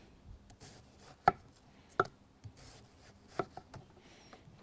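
A knife chops through watermelon in a few sharp, distinct cuts against a board, spaced irregularly with soft scraping between, close and clear with no talking.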